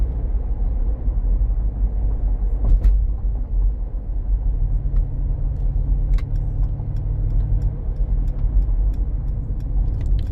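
A Mercedes-Benz G 550 4MATIC drives with light throttle, a steady low engine and road rumble inside the cabin, with a few faint ticks and clicks and a slight swell of engine tone midway.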